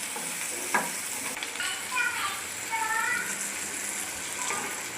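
Onion and garlic sizzle steadily in a hot pan as they are fried until browned, a continuous close crackling hiss with occasional stirring scrapes over it.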